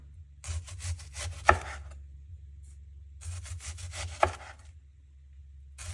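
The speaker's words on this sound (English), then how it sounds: "So we're just going to cut as thinly as we can." A knife slicing a whole onion thinly on a board, two bursts of rapid cutting strokes each ending in a sharp chop against the wood, close and clear over a low steady hum.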